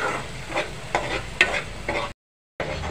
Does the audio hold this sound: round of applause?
no